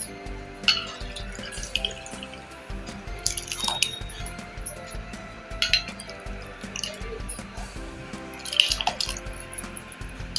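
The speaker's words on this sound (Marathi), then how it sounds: "हे जे काकडीचं पाणी पण आहे ते ह्याच्यामध्ये ओतून घेते" Cucumber water is poured into a thick rice batter for Konkani cucumber tavsoli, with quiet intermittent trickles, drips and squishy splashes in separate bursts.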